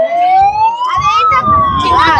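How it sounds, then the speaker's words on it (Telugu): A loud wailing siren sounds at the Vizag glass bridge to end a session, its pitch sweeping slowly up and then down, close and dominant, with a voice talking briefly beneath it. "అలానైతే సైరన్ వేస్తున్నారు చూడండి"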